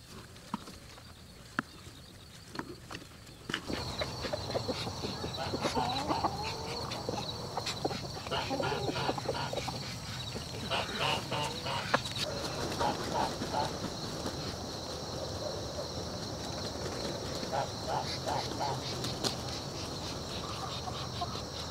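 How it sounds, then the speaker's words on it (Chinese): Chickens, ducks and geese forage in a mown vegetable garden, scratching for insects and seeds, with soft quacks and clucks scattered over steady outdoor background noise and faint rustling from close by. "洒落在地上的草籽呀、剩下的西瓜呀，还有地里面的虫子呀，都被鸡鸭鹅给扫荡了一遍"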